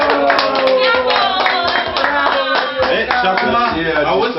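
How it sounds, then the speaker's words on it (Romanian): Hand clapping at a family moț celebration for a child's first birthday, with rhythmic claps running under lively overlapping talk and voices. "Ia, o să aplaude și ea."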